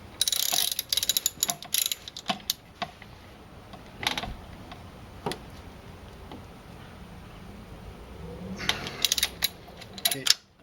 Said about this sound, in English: So total 5 bolts holding the fuel rail. So let's pull those ones off.